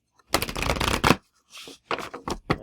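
Oracle cards shuffled for a spiritual reading, several quick riffling bursts in a row, close and crisp, with no talk over them.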